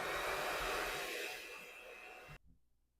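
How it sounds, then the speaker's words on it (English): An electric mixer beats eggs into cream puff dough with a loud, close whir that fades slightly and then cuts off abruptly. "Use mixer to mix them well each time."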